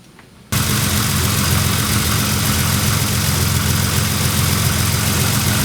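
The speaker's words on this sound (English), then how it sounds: "Let's start up the car," A BMW 635CSI fitted with an ECUmaster Classic engine management system fires up after a brief quiet moment and settles into a steady, loud idle. The running engine holds an even, low rumble through to the end.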